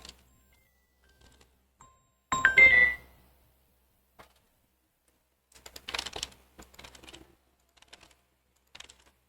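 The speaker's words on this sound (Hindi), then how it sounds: "यहां पर हम लोग को जो टाइप करना है वो हम लोग टाइप करें" Computer keyboard typing in a quiet room, with scattered single keystrokes and one dense rapid burst, then loose clusters of clicks that trail off into sparse taps.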